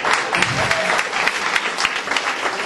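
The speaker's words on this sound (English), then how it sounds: "give him a round of applause." Comedy club audience breaking into applause, a steady wash of clapping with a few louder claps standing out, continuous and fairly close throughout.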